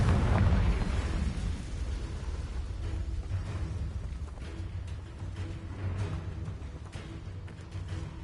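The Confringo spell detonates in Hogwarts Legacy, a loud fiery explosion that rolls into a long, dense rumble lasting the whole stretch.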